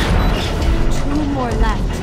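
C3 plastic explosive detonating in Metal Gear Solid 3, a deep rumbling boom close by, with voices talking in the background.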